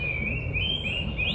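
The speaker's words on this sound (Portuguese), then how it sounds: "E olha os pássaros" Birds sing outdoors in a flowering garden in China, their repeated high chirps and warbles continuous and fairly close, over a low steady rumble of ambient background noise.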